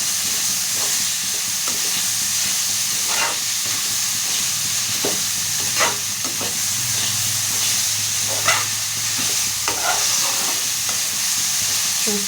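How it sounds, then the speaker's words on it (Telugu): Ridge gourd masala curry with ginger-garlic paste sizzles steadily in a pan, while a spoon stirring through it adds occasional scrapes and clicks over the constant frying hiss. "ఇప్పుడు ఒకసారి మంచిగా కలిపేసుకుందాం."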